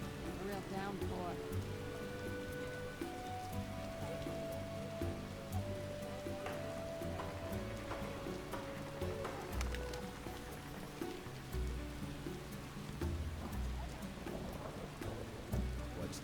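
Heavy rain pours steadily throughout in the video game The Witcher, a dense hiss of drops with low rumbling beneath and faint musical tones threaded through.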